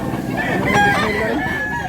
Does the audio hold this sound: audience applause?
no